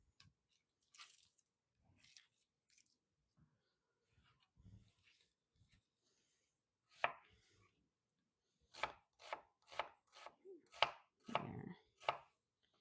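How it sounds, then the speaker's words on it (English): An onion is minced with a knife on a cutting board. Sparse, scattered chops at first give way to a quick run of crisp, close knife strikes. A brief word is spoken partway through. "Mince it up nice and small because you don't want to have huge onion chunks in there"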